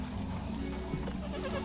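Goats bleat close by, a mother with her newborn kid, in a few short cries over a steady low background.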